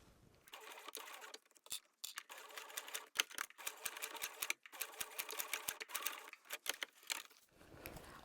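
A sewing machine stitches a boxy zipper pouch closure along the fabric fold, running in steady whirring bursts, stopping and starting several times, with a rapid mechanical stitching rhythm heard up close.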